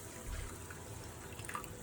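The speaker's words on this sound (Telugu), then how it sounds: "ఇప్పుడు ఒక గ్లాస్లో నీళ్లు తీసుకొని" A glass of water pours into simmering egg masala curry, making a faint, steady, close splashing that lasts under two seconds.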